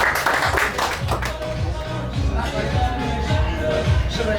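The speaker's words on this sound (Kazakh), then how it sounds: "Вот шынайы да, бір шапалақ соғып қояйықшы" Guests applauding at a birthday celebration, a burst of clapping from a small audience, mid-distance and fairly loud, mixed with crowd murmur and some talking.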